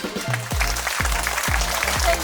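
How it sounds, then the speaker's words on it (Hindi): Loud, sustained applause from the audience at a silver jubilee function in Kalapahar, Andaman, with heavy booming low thuds recurring about every half second beneath the clapping. "बहुत धन्यवाद, जोरदार तालियां।"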